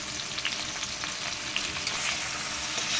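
Sizzling frying in a pan as ground turmeric is stirred into the mixture for jhinge (ridge gourd) jolbora, a steady close crackle with faint scraping of the spoon, no voices.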